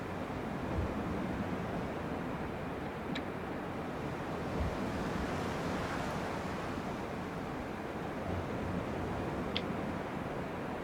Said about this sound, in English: I can still hear the ocean.